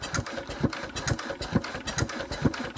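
A Royal Enfield diesel motorcycle engine runs close by with a steady chugging idle, regular thumping pulses about twice a second and a puffing exhaust while the fuel system is being sorted.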